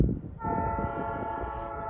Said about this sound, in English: But you can hear the train whistle.